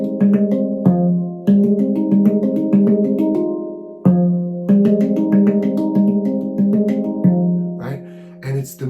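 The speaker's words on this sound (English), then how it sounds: "This is just a piece of metal that has tuning to it." A melody picked out on a tuned piece of metal percussion, with clear ringing struck notes in a simple tune that sustain and overlap, played close and loud with no talking.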